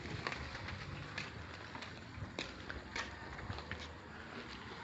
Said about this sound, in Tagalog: Medyo malakas lang po ang ulan.